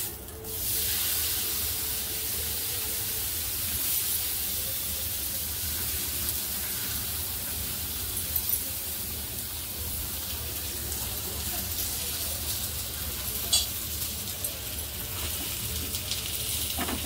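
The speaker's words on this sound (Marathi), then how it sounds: "आणि आता हे आपण थालीपीठ तव्यावर सोडूया" Thalipeeth, a Marathi bhajani flatbread, sizzling in oil on a hot tava griddle: a steady, close hiss that holds evenly, with a few faint clicks and taps over it and no talking.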